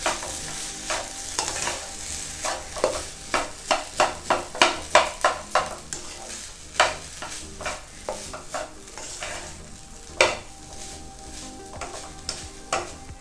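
Pineapple prawn fried rice being stir-fried with sauce in a pan, a steady run of scraping spatula strokes over a soft sizzle, close and fairly loud with no talk.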